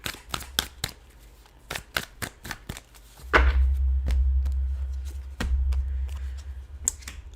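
Quick crisp snaps and riffles of tarot cards being shuffled close up come in bursts, over a low rumbling hum that grows heavier partway through.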